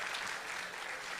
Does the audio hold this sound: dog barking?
no